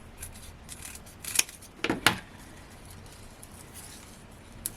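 Scissors snip through 2mm foam pads, cutting them in half with a few quick, crisp closes clustered together over a quiet background.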